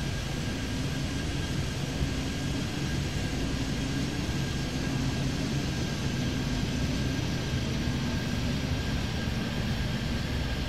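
An airliner in an airport traffic control video game at Miami spools up for takeoff, a steady loud jet engine roar with a thin whine that holds evenly and alone.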